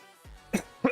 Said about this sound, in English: Sorry, I'm like coughing so much.